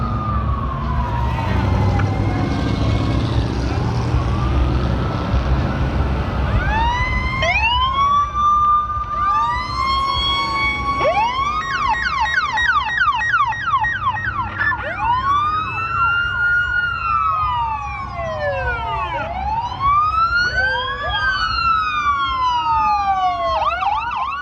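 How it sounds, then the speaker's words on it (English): Multiple emergency vehicle sirens wailing and yelping at once on Woodward Avenue at the 2019 Woodward Dream Cruise, overlapping sweeps rising and falling, loud over a rumbling background of traffic. "emergency vehicles of all shapes and sizes poured out onto Woodward with sirens blaring"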